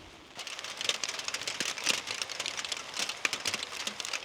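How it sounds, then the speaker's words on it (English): Rain patters steadily and densely on a campsite, a close, crackly hiss of drops hitting surfaces near a cooking fire, with no voices. "We're definitely getting the rain now."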